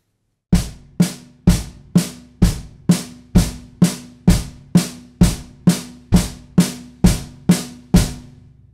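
Single stroke rudiment on snare drum with bass drum added on the right hand, an even, steady pulse of about sixteen loud, crisp hits, close and alone with no talking.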